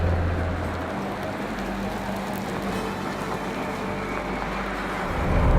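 Fisker Karma luxury car driving, a steady broadband road and tire rush with low rumble, continuous and fairly loud, swelling slightly at the end.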